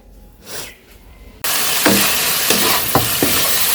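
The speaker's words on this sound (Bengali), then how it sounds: "তো এদিকে সবজি কষাইতে দিয়েছিলাম" Vegetables hit a hot pan and burst into a loud, continuous sizzle and hiss, with a few scraping stirs on top. The frying sounds close and goes on without pause.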